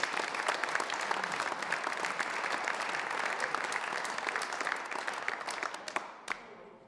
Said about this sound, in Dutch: Geef ze een hartelijk applaus.